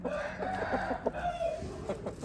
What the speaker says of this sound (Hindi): ज़बरदस्त मुर्गियाँ और मुर्गा है जी, देसी मुर्गे हैं, मुर्गा और मुर्गियाँ